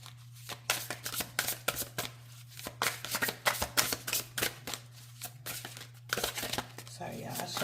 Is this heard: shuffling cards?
yes